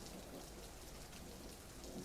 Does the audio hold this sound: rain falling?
yes